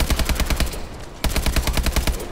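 AK-12 assault rifle firing in Call of Duty: loud, rapid automatic bursts of evenly spaced shots, broken by a brief pause before the firing resumes.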